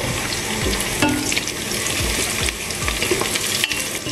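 Chopped onions and green chillies fry in a cooker while making chicken biryani, giving a steady, close sizzle broken by repeated spoon stirs and scrapes, with no talking.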